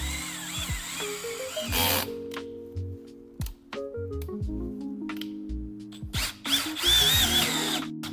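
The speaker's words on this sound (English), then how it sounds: "you're gonna drill a hole through the middle" A power drill whirs in several bursts, its motor pitch rising and falling as it bites into material during a 2024 Toyota Tacoma lift install, with short pauses and clicks between runs.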